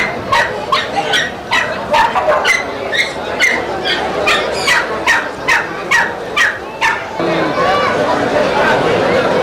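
A dog at a dog show held during an agricultural and industrial exhibition barks in a steady run of sharp, loud, close yelps over a busy crowd murmur that fills the background.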